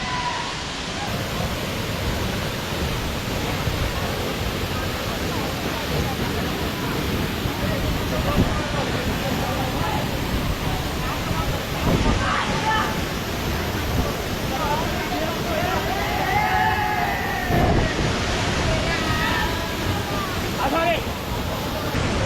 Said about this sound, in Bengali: বন্ধুরা ফাইনালি চলে এসেছি দেওঝর ওয়াটারফলসের সামনে। পিছনে দেখুন কি পরিমাণে জল পড়ছে